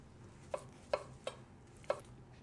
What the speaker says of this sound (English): I'm gonna just cut the tomatoes pretty big, cubic